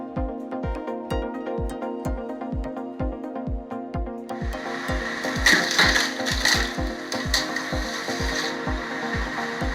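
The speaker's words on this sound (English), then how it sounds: "The screw-type wood splitter starts operating with a 4 kilowatts electric motor" A screw-type wood splitter driven by a 4 kW electric motor works through firewood, giving a steady run of regular mechanical knocks over a humming drive, with loud cracking and crunching of splitting wood joining midway.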